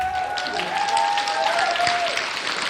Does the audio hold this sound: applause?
yes